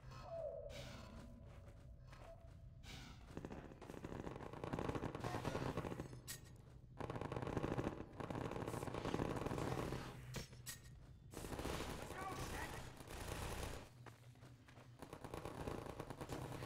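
Sustained automatic turret gunfire in the video game Half-Life 2: Episode 2, dense rattling bursts with brief pauses and mechanical clatter over a loud continuous combat backdrop.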